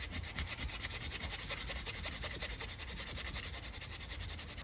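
Rapid, rhythmic rasping strokes of sandpaper rubbing back and forth on a BMW V10 engine part that was pinching a belt, steady and close, with no voices.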